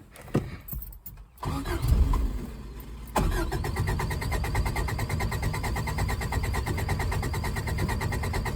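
Keys jingle, a starter cranks briefly, then the engine of a 1984 Subaru Brat that sat for ten years catches and settles into a steady, rough idle.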